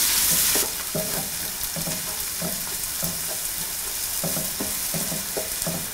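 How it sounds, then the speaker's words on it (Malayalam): Curry leaves, green chillies, ginger and garlic sizzle steadily in a hot pan of oil, the frying hiss continuous and close, with a spoon scraping and stirring in regular strokes throughout. "2 തണ്ട് കറിവേപ്പില, 2 പച്ചമുളക്, 1 ടേബിൾ സ്പൂൺ ഇഞ്ചി, 1/2 ടേബിൾ സ്പൂൺ വെളുത്തുള്ളി എന്നിവയിട്ട് നന്നായിട്ട് മിക്സ് ചെയ്ത് വഴറ്റിയെടുക്കുക"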